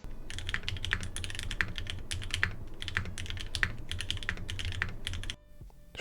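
Fast, continuous typing on a custom mechanical keyboard, dense clacky keystrokes in steady bursts, close and loud, stopping abruptly near the end.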